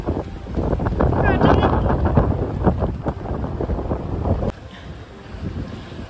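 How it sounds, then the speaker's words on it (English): Sailboat under way on a sunny shakeout sail across Dublin Bay, strong wind buffeting the microphone with rushing water and hull noise, loud and close, while a person talks over it. "We have just passed by on our shakeout sail coming from Malahide over there."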